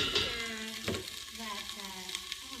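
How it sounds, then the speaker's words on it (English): Vegetables sizzling and being stirred in a hot pan during a cooking class, a steady crackling fry with scraping stirs, while a person talks over it. "So I'm just gonna stir this around a little bit hotter."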